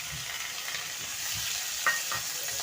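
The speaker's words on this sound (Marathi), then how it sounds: "तर मी इथे तांदूळ टाकून घेतले आणि छान परतून घ्यायचे।" Basmati rice sautéed in ghee in a pan, a soft steady sizzle with faint stirring scrapes and a small clink near the end, quiet and close with no talking.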